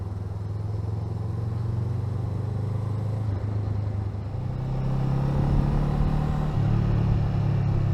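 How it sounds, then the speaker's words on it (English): A Honda Rebel 500 cruiser motorcycle engine idles close by with a steady low rumble that grows slightly louder and rougher partway through. "Listen to that engine."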